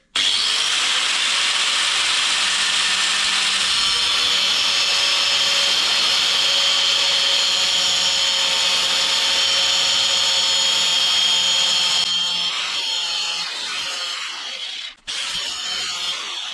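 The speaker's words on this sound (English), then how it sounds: "I've been working the grinder along here but stopping short of the shaft" An angle grinder cuts into the inner CV joint ring of an Austin Allegro, stopping short of the drive shaft. It makes a loud, steady high whine that holds for about twelve seconds, then eases and cuts out briefly near the end.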